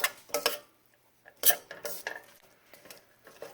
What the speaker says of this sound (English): And now we will be stirring in the curry and all the seasonings.